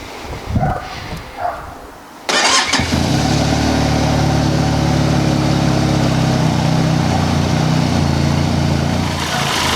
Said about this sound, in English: As you can hear, the engine does have a nice note. It is twin cylinder